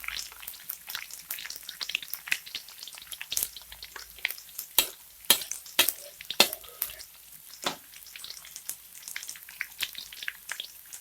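Shallots, garlic and sliced ginger sautéing in a pan give a steady soft sizzle, broken by frequent sharp scrapes and clicks of stirring that come close and moderately loud, with no voices.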